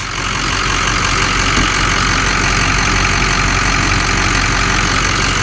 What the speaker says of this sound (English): hear a little bit of jingling, might be fan clutch.